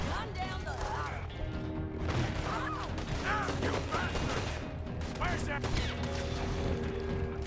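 Semi-automatic weapons crack repeatedly in a Red Dead Redemption 2 shootout near a factory building, dense overlapping shots and clatter running throughout while voices talk and shout over the noise.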